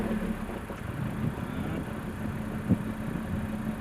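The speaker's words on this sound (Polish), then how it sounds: "Odpalimy sobie samochód, zobaczymy jak to" A Mercedes-Benz car engine runs at a steady idle, giving a low, even hum close by, with one brief knock partway through.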